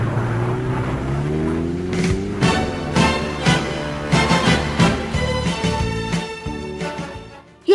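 A car engine in a video game revs steadily and climbs in pitch, then shifts through rising gear-like surges with bright, harsh edges, loud and close throughout with no voices, ending abruptly.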